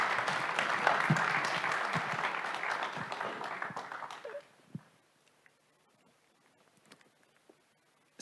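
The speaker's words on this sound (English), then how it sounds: "I would like to ask you for a round of applause for all of them" A conference audience at an investment event for the Stara Zagora region applauds the people who joined the stage. The clapping is full and steady, then drops off sharply midway, leaving a few scattered claps in near silence.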